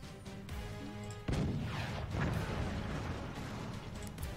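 A heavy cannon blast in the video game Forts thumps in with a sharp crack, followed by a rumbling, debris-filled roar over a steady mechanical background hum.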